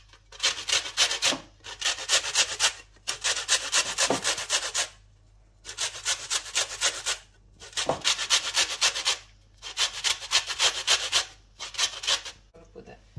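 A lemon is rubbed against a grater to zest it for a no-bake berry cheesecake, six steady rasping bursts of scraping with short gaps between, close and fairly loud, no talk.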